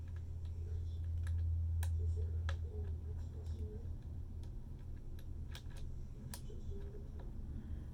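Screws click into their holes during reassembly of a Kirby vacuum, making sparse, sharp, faint ticks at irregular intervals over a low steady hum.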